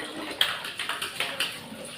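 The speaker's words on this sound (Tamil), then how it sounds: "தண்ணி கொஞ்சமாக திறந்து விட்டு பாத்திரம் கழுவணும்" Tap water runs at a low flow at a kitchen sink while dishes are being washed, with a steady trickle broken by several sharp splashes and clinks in quick succession.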